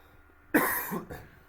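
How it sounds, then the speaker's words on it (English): A single close, sharp cough bursts out from a sick person, followed quickly by a shorter second cough. "I apologize for the coughing."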